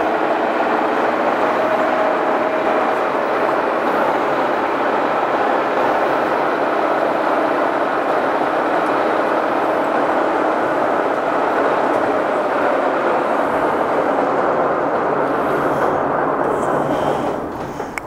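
The spindle of a Giddings & Lewis 340T horizontal boring mill runs in high range at about 915 RPM, giving a steady, dense mechanical drone that holds evenly before easing off at the end.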